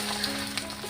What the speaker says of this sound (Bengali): এবার তাওয়াতে ডিমটা দেওয়া হচ্ছে, এরপর রুটিটা দিয়ে ভালো করে উল্টে পাল্টে ভাজা করে নিতে হবে।